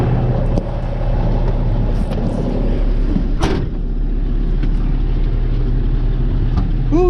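An old abandoned dump truck runs while driving down the road, a loud steady low engine drone with rattling cab noises and a sharp knock midway.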